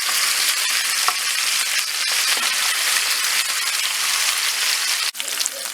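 Chicken pieces fry in a pan with a steady, close, loud sizzle and crackle that runs throughout, with a brief clatter near the end and no talking.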